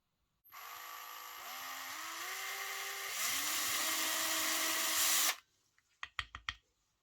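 Electric drill boring holes through copper sheet for a marabou spinner lure, a steady whining buzz for about five seconds that rises in pitch partway through, then stops, followed by a few short clicks and knocks.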